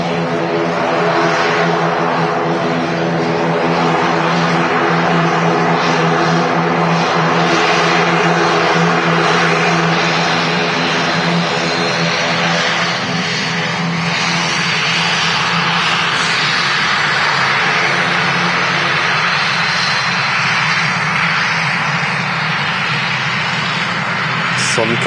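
An EasyJet propeller aircraft takes off from Manchester Airport, a loud, sustained engine and propeller roar that fills the whole stretch while people talk over it.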